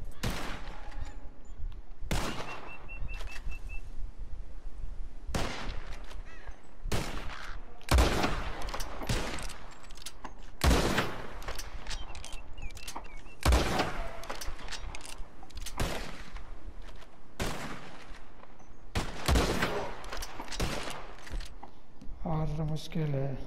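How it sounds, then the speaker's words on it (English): Repeated gunshots crack out in a Red Dead Redemption 2 shootout, sharp bursts spaced every couple of seconds over a steady background, with talk mixed in. "As soon as you see them, start shooting."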